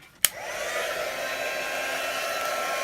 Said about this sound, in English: I'm going to just run my heat tool over it.